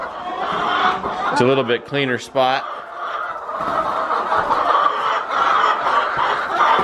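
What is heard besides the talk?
young pullet chickens clucking on family farm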